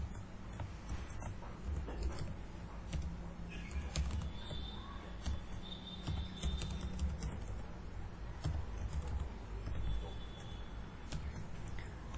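Steady typing on a computer keyboard in Windows 10 at the command prompt, with rapid clicking keystrokes running continuously at moderate level, close by, with no speech.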